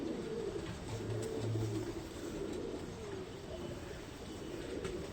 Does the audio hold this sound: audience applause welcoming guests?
no